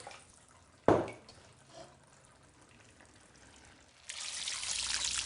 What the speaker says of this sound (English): I'm just going to pour the water in here to swill around before sticking in the pot.